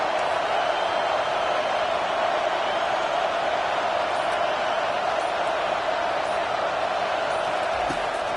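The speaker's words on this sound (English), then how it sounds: "This crowd bringing an ear-splitting welcome to their visitors." Crowd cheering in the college football video game NCAA 25 during a Miami versus Florida matchup, a loud, unbroken stadium roar that holds at an even level from start to finish.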